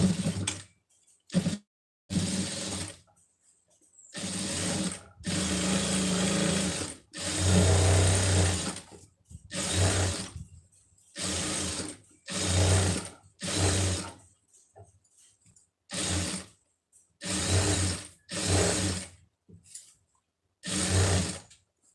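A sewing machine stitches around a blouse neck in many short bursts of rapid mechanical whirring, broken by brief silent pauses, heard up close with no talk.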